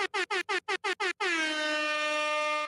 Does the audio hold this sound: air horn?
yes